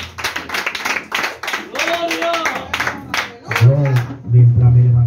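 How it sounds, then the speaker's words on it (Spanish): Church congregation clapping in quick bursts of many hands, loud and close, mixed with voices and a low hum that swells near the end. "Denle aplauso a Cristo."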